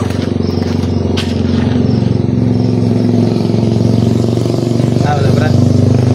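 Motorcycles on a street near a basketball court give a loud, steady engine rumble throughout, rising slightly in places, while people talk over it.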